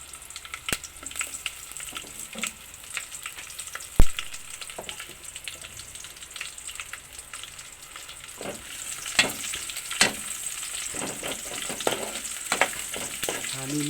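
Onions sautéing in a pan for a vegetable soup, a faint steady sizzle broken by scattered clicks and scrapes of stirring, growing slightly louder toward the end.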